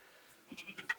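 Farm sheep in a village give a few short, close bleats in quick succession after a brief quiet start.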